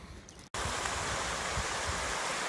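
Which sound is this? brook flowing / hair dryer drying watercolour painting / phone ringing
brook flowing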